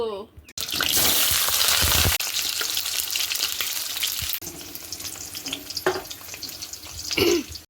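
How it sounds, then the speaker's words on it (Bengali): Potatoes hit hot mustard oil in a kadai with a loud burst of frying hiss that settles into a steady sizzle, broken by a few clattering stirs and scrapes. "কড়াইতে দিয়ে দিলাম একটু সর্ষের তেল হয়ে যাওয়া তেলের মধ্যে কিন্তু আমি আলু দিয়ে দেব"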